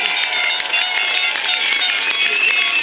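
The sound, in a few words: crowd applause for the Somerset Premier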